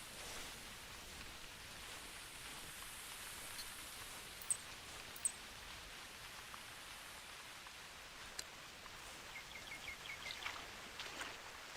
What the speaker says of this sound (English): Freaking rain.